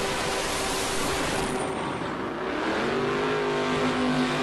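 Loud, dense engine roar from powerful turbocharged Ultra Street drag race cars launching, a continuous blaring rumble with rising pitch as they accelerate away.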